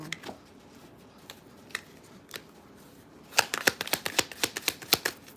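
A deck of tarot cards being shuffled close up: a few scattered soft flicks at first, then a quick run of crisp riffling snaps that stop and start, with no talking.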